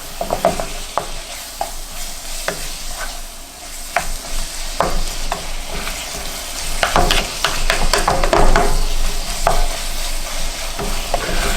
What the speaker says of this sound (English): And now let's mix it into the beef.